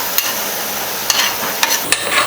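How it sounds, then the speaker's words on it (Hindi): Onions and garlic frying in a pan, a steady close hiss and sizzle broken by a few sharp clicks of stirring. "इसके बाद अभी हम इनको अच्छे से फ्राई करेंगे"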